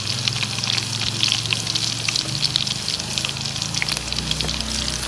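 Ginger garlic paste sizzling steadily in a hot pan for village-style saag, a continuous loud bright crackle with a faint low hum beneath and no talking.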